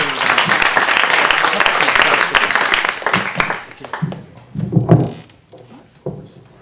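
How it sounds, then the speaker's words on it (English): A crowd's sustained applause and clapping at an evening storytelling event, loud and dense for about three seconds before thinning out into scattered claps and shuffling noises. "how about a big round of applause for Hal McCown"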